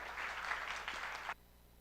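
An audience at a Christmas party applauds in a brisk, fairly close burst of clapping that stops abruptly after about a second and a half, leaving a faint low hum behind.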